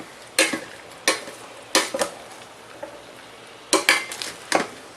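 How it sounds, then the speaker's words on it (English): Meat sautéing in a mini Instant Pot, with a spoon clacking and scraping against the pot in sharp irregular taps over a faint low sizzle, close up and without speech. "So it says you're supposed to saute until the meat is no longer pink"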